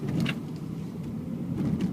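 A car on an evening drive in Michigan, heard from inside the cabin with the AC running: a steady low road rumble and muffled engine hum, with a couple of faint clicks.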